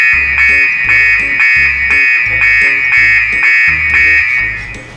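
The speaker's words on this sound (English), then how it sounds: "that's the alarm to tell you whether it's full or not full." An air tank alarm on a rescue truck sounds loud and close as a continuous high electronic tone with a steady pulsing rhythm over a low repeating buzz.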